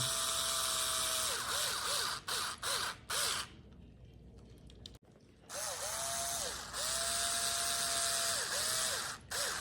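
A small electric screwdriver whirs in long bursts with pitch sweeps as screws fasten an Injora Jeep Cherokee body to a Traxxas TRX-4M crawler chassis, loud and close, with a brief pause midway and no voices.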